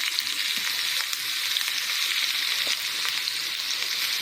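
Green chillies sizzle steadily in a hot ghee tempering with mustard seeds, fenugreek and cumin, a close, continuous hiss and crackle with no talk.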